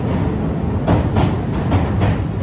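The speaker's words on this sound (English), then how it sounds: "now we have like a little faster train" A faster train passes by in Tokyo, a steady broadband rumble with rhythmic wheel clatter pulsing every half second or so, loud and close throughout with no talking.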